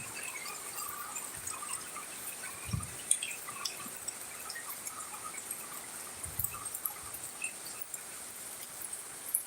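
Heavy rain drips quietly, with sparse, irregular drops and a few soft thuds over a faint, steady hiss of wet background noise.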